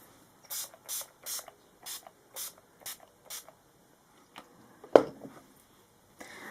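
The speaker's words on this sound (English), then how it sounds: "set my face now with my Urban Decay All Nighter Makeup Setting Spray" Short sprays of Urban Decay All Nighter makeup setting spray hiss out in quick bursts, about eight pumps in a row, each a soft close puff of mist, followed by a sharper clack.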